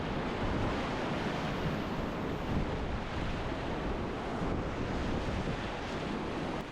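A desert river runs high at flood stage, its current a dense, unbroken roar of rushing water close by, with gusts of wind noise on the mic and no one speaking.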